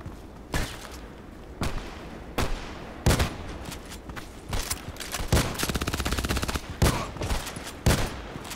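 Heavy shotgun blasts in the shooter game Contract Wars, a string of loud, sharp booms at irregular intervals with a rapid burst of automatic fire in the middle, no talking.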